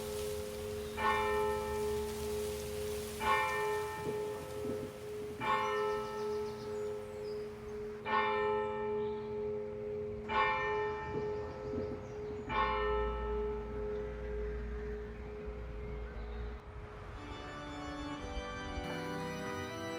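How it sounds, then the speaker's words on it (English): A church bell tolls six times in slow, even strokes, each ringing out and fading before the next, over a steady low hum. "The church bells toll"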